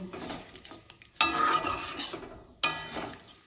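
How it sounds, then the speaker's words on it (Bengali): Cauliflower rezala curry being stirred in a pan after water and salt go in, a steady scraping and sloshing with sizzle underneath and two sharper clanks of the spoon against the pan, close and alone. "সব কিছু ঝোলের সাথে মিশিয়ে নেব।"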